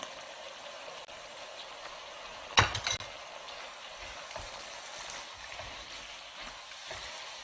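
An eggplant dish with starch slurry being stirred in a pan, a soft continuous sizzle and scraping with a brief louder clatter of the utensil partway through.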